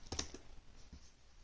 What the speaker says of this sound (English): Full keyboard. Here's the clicks. That's what it sounds like.